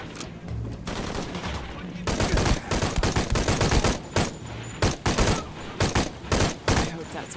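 Rapid gunshots ring out while enemies are picked off with headshots in Shadow of the Tomb Raider, a dense run of sharp cracks and bursts that grows busier partway through.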